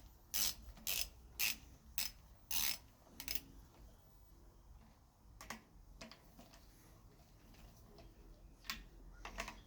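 A torque wrench tightening the cylinder head bolts on a 4B11T engine, giving a series of sharp ratcheting clicks in short bursts, close and clear, followed by quieter scattered clicks.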